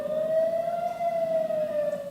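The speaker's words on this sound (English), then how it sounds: "Sirens warned of an imminent Hamas rocket attack." Air raid sirens sound a steady, loud, wavering wail warning of an imminent Hamas rocket attack on a gathering of hostage families in Israel, the tone sustained without a break.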